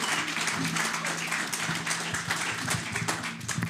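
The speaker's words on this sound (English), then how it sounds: "Let's give a round of applause for the space." Steady, dense audience applause at the opening of a summit, a crowd clapping continuously and fairly loudly throughout with no talk over it.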